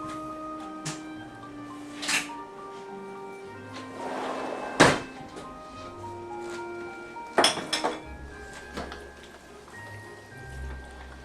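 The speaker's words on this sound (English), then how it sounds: "It's good to stir the pot every now and then." A pot of venison chili is stirred, with scattered clanks and thunks of a utensil against the pot, a few sharper knocks standing out over a low, steady background hum.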